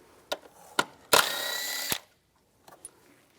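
A power tool with a 10mm socket removing bolts on a 2010-2016 Cadillac SRX during an ignition coil replacement, running in one loud whirring burst of under a second, framed by light clicks and clanks of handling.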